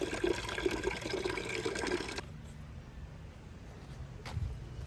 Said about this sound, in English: We decided to just fill up our solar shower with the bucket.